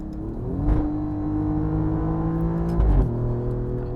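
Steady engine drone from an Alfa Romeo Giulia QV on a back road, with two brief bursts of acceleration as the revs rise and settle, heard from inside the car.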